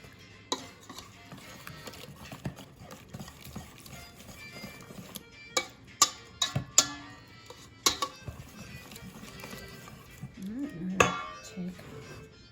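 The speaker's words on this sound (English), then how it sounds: "I'm gonna stir this up." A spoon stirs ingredients in a bowl, giving scattered light clinks and scrapes at an uneven pace, fairly faint, with soft background noise and a brief voice near the end.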